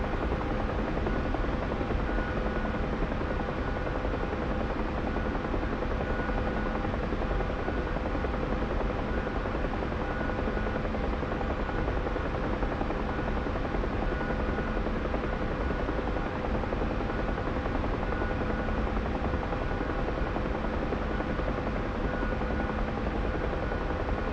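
A UH-1H helicopter's rotor in a video game drones steadily and loudly for the whole stretch, a constant chopping thrum with a whining engine tone and no pauses.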